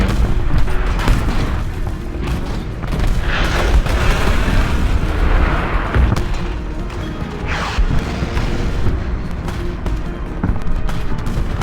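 A tank cannon fires dart shells in a video game, giving a run of heavy booming blasts and crashing impacts over a dense, continuous battle rumble.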